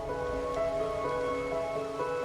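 Steady rainfall in the video game Wuthering Waves, a soft continuous patter under sustained tonal game music, with no talking.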